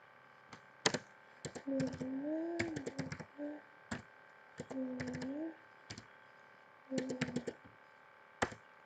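Crisp keystrokes on a computer keyboard entering an IP address, clustered in quick bursts with pauses, close and distinct, while someone talks between and over the typing.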